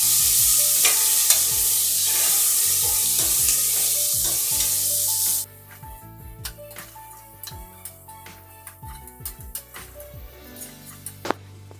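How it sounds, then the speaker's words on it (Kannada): Onions frying in a pan until golden brown for egg biryani, a loud dense sizzle for the first half that drops abruptly to a quieter crackle with scattered sharp spoon taps and scrapes. "ಈರುಳ್ಳಿ ಗೋಲ್ಡನ್ ಬ್ರೌನ್ ಬರೋವರೆಗೂ ಫ್ರೈ ಮಾಡ್ಕೊಳ್ತೀನಿ"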